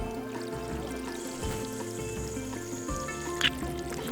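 Water pours from a gravity-fed system into a plastic tote, a steady close trickling flow that runs continuously with a faint click near the end and no voices.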